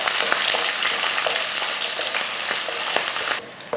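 Shallots, garlic and curry leaves sauté in hot oil with a loud, close, continuous sizzle and crackle that cuts off abruptly near the end.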